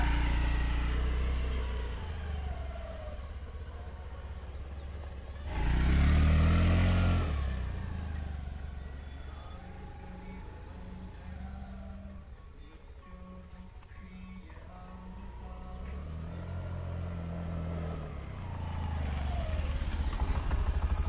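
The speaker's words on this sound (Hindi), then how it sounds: "इंजन इसका बहुत साइलेंट है और ब्रेकिंग भी ज़बरदस्त है।" Honda Activa 6G scooter engine on a test ride, a steady low engine hum with a louder surge of revving midway and rising again near the end, with no speech.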